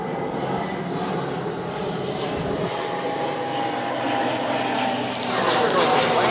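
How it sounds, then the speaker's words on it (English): An airplane flies overhead with a steady, rumbling engine roar that fills the whole stretch and swells slightly louder toward the end. "There goes the plane."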